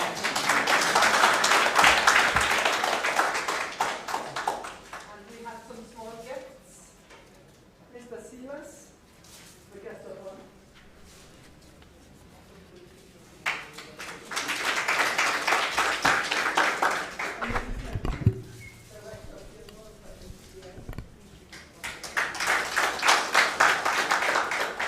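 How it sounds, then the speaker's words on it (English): A crowd claps in bursts of applause, loud at the start and again later, with quieter stretches between. "Another hand of applause"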